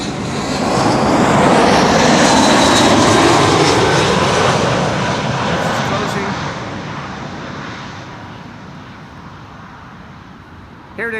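A KLM airliner in Orange Pride livery comes in to land at Amsterdam Schiphol, its engines swelling into a loud broad roar that slowly fades as it passes.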